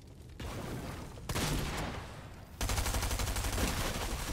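Rapid gunfire from a video game, a sustained burst of shots that grows louder partway through, with no talk.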